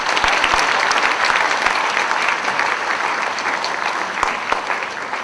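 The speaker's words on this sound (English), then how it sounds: "let's keep the applause going" Sustained audience applause at a charity dinner in Penang, steady dense clapping from a large room that fills the whole stretch at full volume, with no talk over it.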